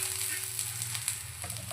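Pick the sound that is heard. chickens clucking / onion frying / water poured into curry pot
onion frying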